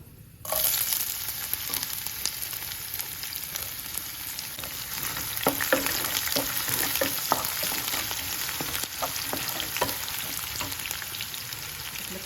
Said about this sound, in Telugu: మనం పచ్చి వాసన పోయే వరకు వేయించుకోవాలి ఇవి శనగపప్పు ఇవి వేగిన తర్వాత ఉల్లిపాయ ముక్కలు వేసుకుందాము